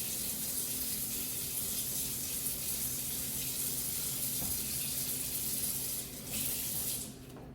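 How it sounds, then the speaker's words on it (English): Cold tap water runs steadily as brine is rinsed off fish, a continuous hissing splash that briefly shifts as the fish moves under the stream near the end. "So what I do is wash all that brine off in cold water."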